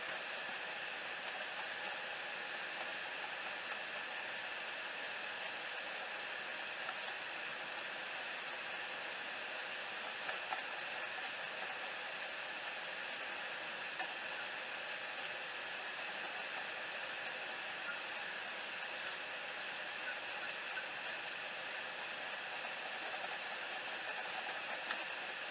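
Peppered country gravy simmering at a medium boil in a pot, a steady, even bubbling hiss that holds unchanged for the whole stretch, fairly quiet and with no voices.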